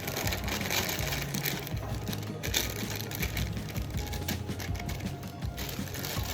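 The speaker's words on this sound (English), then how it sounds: "Then I'm just gonna put in my cake mix" Dry German chocolate cake mix pours into a Rockcrok bowl as a steady, close rustling hiss lasting several seconds, with no talking.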